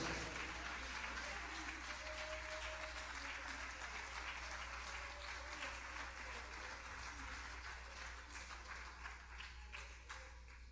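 A church congregation applauds during a Sunday evening service, a broad sustained wash of many hands clapping steadily at a moderate distance for the whole stretch, with a low hum underneath.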